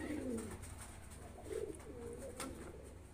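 Lakkha (Mayurpankhi) pigeons cooing softly and repeatedly, low rolling coos close by, with faint chirps and background noise and no talk.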